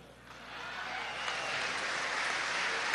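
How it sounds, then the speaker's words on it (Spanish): Workers at a Kimberly-Clark factory in Aragua, Venezuela, break into applause that swells from quiet to a steady, fairly distant roar of clapping. "Escuchen esto que también les va a gustar y lo van a aplaudir mucho"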